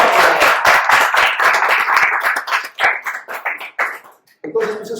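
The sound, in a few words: audience applauding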